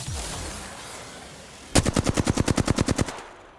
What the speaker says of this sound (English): putting big shots with the Mastiff into the chest